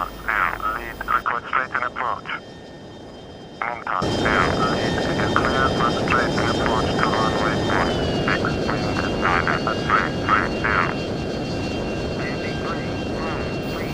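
An F-22 jet approaching to land in the flight game Total Air War, its engine a steady whining drone under bursts of radio-style voices and cockpit chatter.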